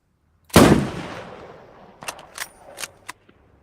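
A sniper rifle in a multiplayer video game fires one sharp, loud, booming shot with a long decaying tail, followed by several quieter metallic clicks of the bolt being worked.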